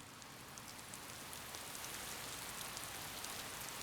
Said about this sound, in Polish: Padał deszcz